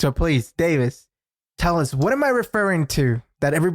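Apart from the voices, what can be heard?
No everyday noises stand out.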